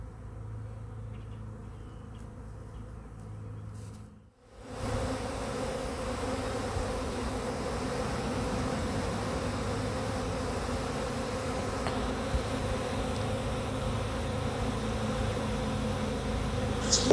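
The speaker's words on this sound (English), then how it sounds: "That's the sound of thousands and thousands of bees just flying around my head." Thousands of honeybees from a swarm fly around close by, a continuous dense buzzing hum that briefly drops out for a moment, then returns full and steady to the end.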